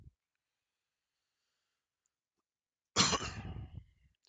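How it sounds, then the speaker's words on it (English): A single hard, harsh cough bursts out close to the microphone after a stretch of near silence, then trails off. "Excuse me, I didn't mean to cough that hard in your ear."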